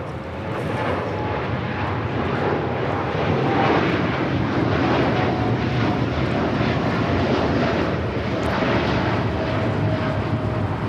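A United Airlines Boeing 787-10 Dreamliner bound for Newark takes off at Los Angeles airport, its jet engines a loud, steady roar holding full power throughout, with no voices over it.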